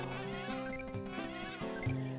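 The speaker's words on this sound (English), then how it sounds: "hear these bees really quick" Bee enemies in the video game Wario Land 4 let out a nasal, bleating gibberish buzz, wavering pitched chatter over game music, fairly quiet and continuous.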